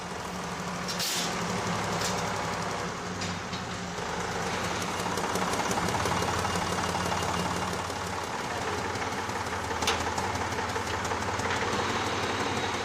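A tractor engine running beside barrels of thyme at an old herb distillery in the Drôme: a steady, loud mechanical drone with rumbling knocks, continuous and close for the whole stretch, with no talk.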